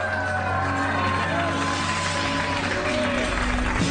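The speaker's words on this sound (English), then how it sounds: "They're booing." A studio audience reacts to a late-night comedy host with sustained crowd noise, a broad, steady wash of booing and murmuring mixed with some clapping, loud and continuous throughout.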